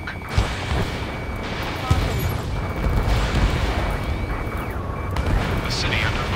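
In the combat flight game Ace Combat 7, dense gunfire and explosive booms rumble over a city under martial law, a continuous noisy barrage with sharp impacts and distant jet roar beneath overlapping voices.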